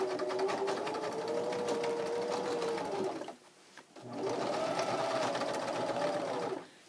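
A sewing machine stitches backwards over work pants fabric in two loud, close runs of rapid whirring with a brief pause between them.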